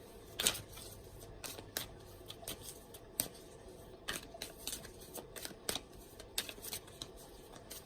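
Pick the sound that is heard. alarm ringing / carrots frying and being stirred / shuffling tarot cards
shuffling tarot cards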